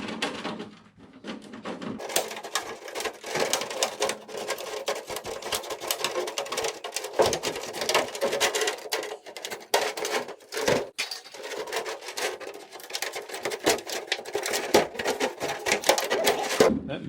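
Lexan RC car body being cut and trimmed around the wheel well, a quiet run of rapid, irregular scraping and clicking snips, close-up, with short pauses between bursts.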